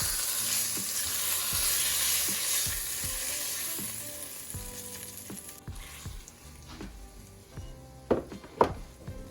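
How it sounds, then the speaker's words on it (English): Steady sizzling of cube steak frying in a hot pan, with occasional clinks and scrapes of a utensil, louder pops near the end. "I just want to kind of just, sear the outside and just fry it up a little bit."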